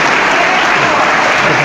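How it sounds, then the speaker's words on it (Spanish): Loud, dense applause from an audience at a religious debate between a Catholic priest and an evangelical, filling the whole moment as a steady wash of clapping with no pauses. "Aplauso fuerte, que se oiga"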